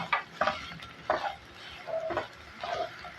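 A spoon working mashed taro around a pan, several distinct scraping and knocking strokes at an uneven pace with a soft sizzle underneath, close and fairly quiet.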